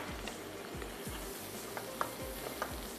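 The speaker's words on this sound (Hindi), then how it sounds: "मैं इसमें डायरेक्टली ही ये पास्ता शामिल कर दूँगी, क्योंकि तमाम चीज़ों को हमने मिक्स करना है" Pasta being stirred into a cooking pot of ghiya gosht, a bottle gourd and meat curry, with steady sizzling under rhythmic scraping strokes of a spoon and a few light clinks against the pot.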